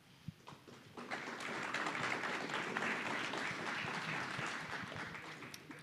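Audience applause at the close of a Devcon VI workshop talk in Bogotá, a few scattered claps building quickly into steady, sustained clapping from a room of people at moderate distance.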